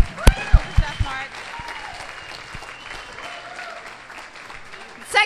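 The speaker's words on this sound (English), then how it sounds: "Let's all give him a round of applause, please." A brief round of applause for Chef Mark at a bistro wine-and-beer dinner, with a few sharp claps at the start under a voice, then a soft spread of clapping that stays faint and distant.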